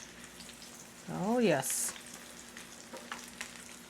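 Breaded chicken breast frying in a pan, a soft sizzle underneath a brief exclamation from a person and a short bright hiss in the middle.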